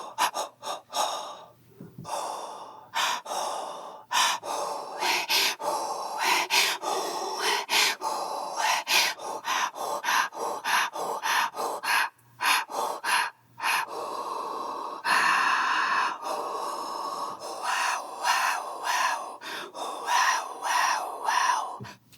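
Recorded human breathing for a vocal sample library, with rapid rhythmic gasps, snorts and panting breaths shaped through changing mouth vowels, close and intimate, continuing alone for over twenty seconds with brief pauses.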